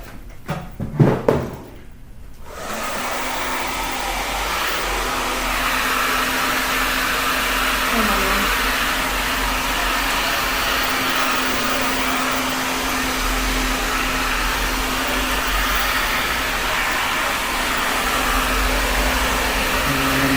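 A hair dryer fitted with a diffuser attachment runs steadily while drying hair, a loud continuous airflow whoosh with a low hum, starting after a few brief knocks and handling noises at the opening.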